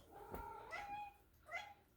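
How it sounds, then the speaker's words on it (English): Pet cat meowing indoors, two short, faint, plaintive meows a moment apart in a quiet room. "you can hear her. Meow."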